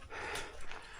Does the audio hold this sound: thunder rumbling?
no